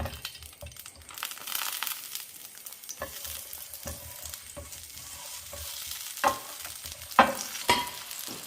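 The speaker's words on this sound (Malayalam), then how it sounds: "മൂന്ന് തക്കാളിപ്പഴം എടുത്തിട്ടുണ്ട്, ചെറുതായതുകൊണ്ടാണ് 3 എടുത്തത്. അത് ഈ നെയ്ക്കകത്തൊന്ന് വഴറ്റിയെടുക്കണം" Three small tomatoes sautéing in ghee for a ghee rasam, giving a soft continuous sizzle under intermittent stirring scrapes and a few sharp clinks of a spoon on the pan, fairly close, without any talk.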